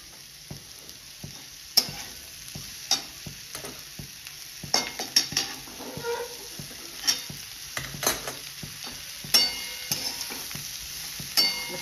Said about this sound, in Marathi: हे बघा, आता ही भाजी आपण छानपैकी अशी परतवून घेऊया।